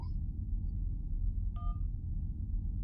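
A phone rings in the adventure video game Syberia: short electronic tone bursts, one at the start and another midway, over a steady low background rumble.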